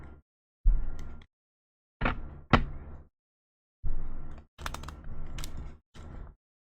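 Several short bursts of tarot cards being riffled and bridged, each lasting about half a second to a second, separated by brief silences, close by.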